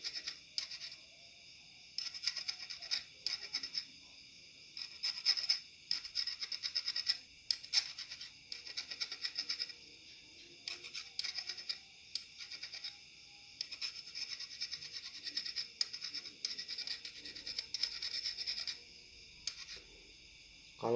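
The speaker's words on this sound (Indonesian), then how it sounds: "dirapihkan pakai kikir biar gak" A hand file rasps over a Yamaha Vixion motorcycle shock absorber part in repeated short scraping strokes, close and fairly clear, with brief pauses between bursts and no talking.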